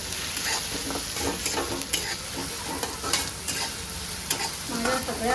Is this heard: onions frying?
yes